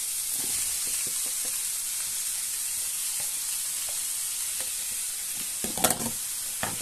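Onion cut into thin strips frying in a pan for Turkish eggs, a steady soft sizzle with light stirring clicks and a brief louder burst of crackle near the end.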